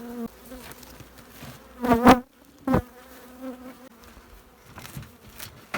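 Honeybees around a hive being inspected buzz close by in a few sharp passes, one loud burst followed by quieter drones against a calm background.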